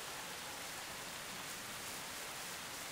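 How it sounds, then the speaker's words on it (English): Rain falls steadily in the video game Tales of Legendia, a soft, even hiss of rainfall with no breaks and no voices. "Oh, it's raining."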